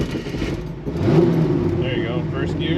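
A big block car engine in a manual-transmission vehicle revs up when given gas, a steady mid-pitched roar rising and holding over a couple of seconds, with people talking inside the car.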